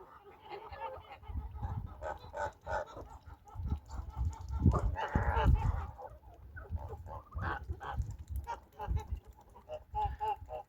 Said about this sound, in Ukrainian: Гуси великі, гарні, але бояться.